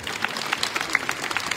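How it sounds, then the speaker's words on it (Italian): Brief applause from a small audience at an exhibition opening in a museum cloister in Mestre, with scattered distinct claps at an uneven rhythm over about a second and a half. "Facciamo un applauso."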